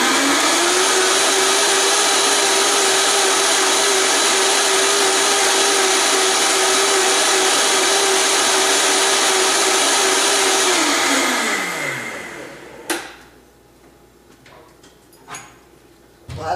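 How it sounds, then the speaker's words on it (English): A Vitamix blender whirs loud and steady on high speed, blending coconut nog coffee, for about eleven seconds before winding down and stopping, followed by a few light clunks and near silence. "So we put this on our Vitamix"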